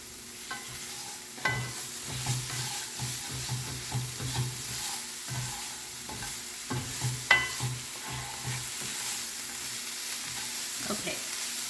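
Onions and spices sizzle in a pan for a chickpea tagine, a steady frying hiss broken by repeated scraping stirs and utensil knocks, close and with no talking.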